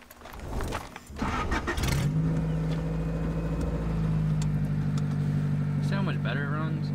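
A car engine with a new exhaust cranks and catches, then idles and revs with a steady rumble close by; a voice briefly speaks near the end.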